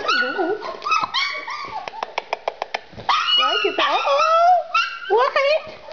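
Four-week-old puppies yip, whimper and bark close by in a steady stream, with a quick run of sharp evenly spaced yips in the middle and high whiny cries throughout.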